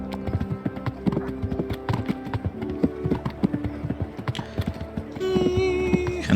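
Horse hooves in the medieval video game Kingdom Come Deliverance, a rapid, busy clip-clop of galloping with tack jingling and game ambience, ending in a sustained tonal sound as the ride slows.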